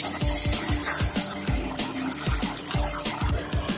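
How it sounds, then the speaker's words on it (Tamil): Two whole fish frying in hot oil in a pan, a loud, steady sizzling hiss with a bubbling crackle running through it, close up and with no voices. "இந்த 2 மீனையும் முதல்ல பொரித்து எடுத்துக்கலாம்."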